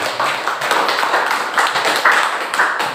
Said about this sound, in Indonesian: Aplaus untuk Dewi